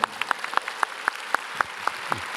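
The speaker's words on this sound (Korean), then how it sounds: "우리 박수 한번 쳐주시길 바랍니다" A church congregation claps in a steady, fairly sparse rhythm, with individual hand claps standing out sharply at close range.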